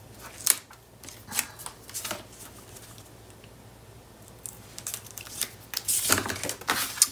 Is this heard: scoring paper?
yes